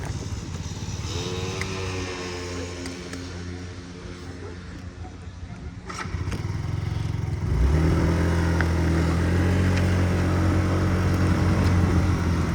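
A Yamaha BWS 49 four-stroke injected scooter starts from the push button and pulls away, its small engine settling into a steady, louder drone close by after a brief quieter stretch with light background noise.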